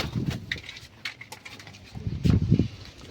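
Low, soft cooing of pigeons in a few separate bursts, close by, with faint scuffling and light background noise between calls.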